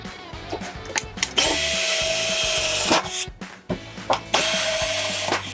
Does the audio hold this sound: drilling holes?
yes